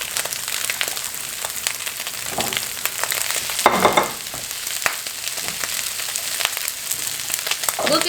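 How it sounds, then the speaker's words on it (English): Ground beef and mushrooms fry in a pan for a quick Japanese yaki noodle stir-fry, giving a steady close sizzle with scattered crackles and pops and a brief louder stirring burst midway. "Now that the ground beef is all cooked up, I'm gonna throw in the mushrooms"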